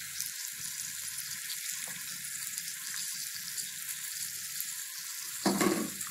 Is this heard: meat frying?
yes